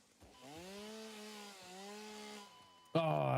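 A video-game chainsaw revs into a droning, pitch-wavering whine for about two seconds, dips, then a second louder burst cuts in sharply at the end; no talking over it.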